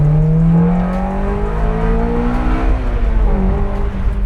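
A 1991 Mazda Miata swapped with a Honda K20A engine from a DC5 Type R, idling close and loud with a steady, smooth drone and slight pitch shifts as it runs.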